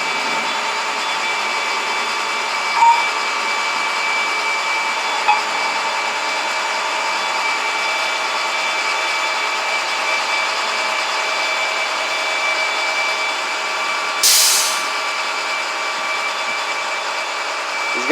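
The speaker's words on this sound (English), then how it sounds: "So I'm gonna give you a little footage of it getting towed." A tow truck idles steadily nearby as it rear-tows a broken-down small box truck, giving a constant droning engine hum with a few brief clanks and one short hiss.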